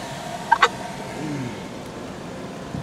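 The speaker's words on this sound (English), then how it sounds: "Dumpster ducks. Holy crap, they're like a gang, like a back alley gang." Ducks near a dumpster give two quick, close quacks in a row, followed by a quiet stretch with only faint background noise.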